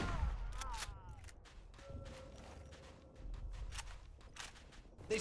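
Video game gunfire comes in scattered sharp bursts and volleys, mixed with mechanical creaks and clanks over a steady low rumble.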